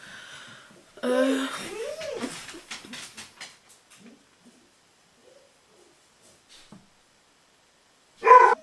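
A dog lets out an agitated burst of barks and yips, loud and close, followed by quieter scattered sounds and one more sharp bark near the end.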